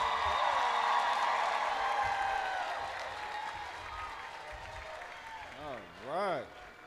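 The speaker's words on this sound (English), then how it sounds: "I now invite the audience to join me in giving another round of applause to the" Loud applause for the graduating class at the 66th BCC commencement in 2026 starts full and broad, then gradually thins and fades, and a few wavering whoop-like tones rise over it at the close.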